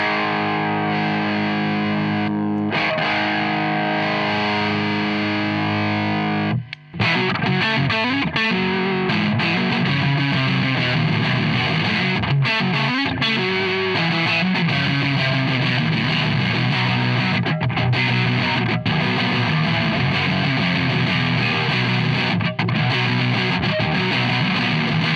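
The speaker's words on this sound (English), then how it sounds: "So now I'm going to turn it all the way up and it gets into distortion," Electric guitar through a Digitech Blues Screamer pedal with the gain turned all the way up, producing thick, saturated near-fuzz distortion; a sustained chord rings, then dense strummed riffs play loudly and continuously.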